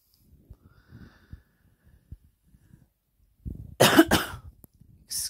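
A person recovering from a cold coughs in a couple of harsh bursts after some faint breathing and throat sounds, close to the microphone.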